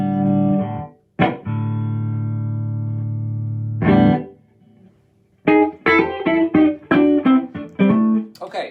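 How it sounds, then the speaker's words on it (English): An electric guitar with reverb switched on plays a scale lesson: long ringing held notes with decaying tails, then a run of quicker plucked notes, each blooming into a roomy wash. "Now what we're going to do is turn the reverb on real quick."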